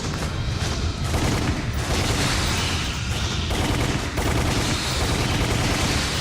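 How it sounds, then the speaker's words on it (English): Machine gun fire in a first-person horror shooter game, with dense, loud, sustained bursts of rapid shots over a rumbling background, briefly pausing between bursts. "I guess I'm gonna be using the machine gun for most of this."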